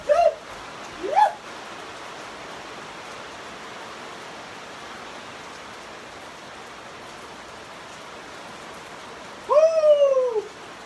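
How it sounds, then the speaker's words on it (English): Heavy rain pours in a steady, dense hiss throughout, with a cat meowing briefly near the start and again near the end, the final calls louder and drawn out. "I can't believe it is raining that hard right now"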